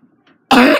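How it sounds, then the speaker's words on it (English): A single sharp, harsh cough, close and loud, bursts out after a near-silent moment, followed by a short catch of breath. "I have the worst cough ever"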